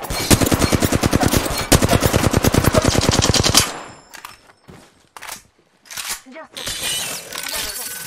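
Rapid automatic gunfire from the Apex Legends video game rattles loud and close for several seconds, then gives way to scattered shots, clicks and game effects, with a voice speaking briefly.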